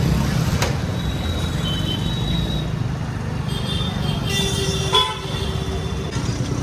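Busy street traffic in Palitana during Diwali shopping, a dense, steady rumble of passing vehicles with several short horn toots from cars and buses scattered through it.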